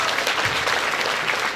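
An audience at a youth awards ceremony claps steadily and densely for the whole short stretch, close and continuous, with no voices standing out.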